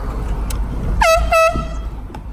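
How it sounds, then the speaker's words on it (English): A vehicle horn blasts twice in close succession, the second blare longer, cutting loudly above steady road noise heard from inside a car. "Some moronic idiot honking at me."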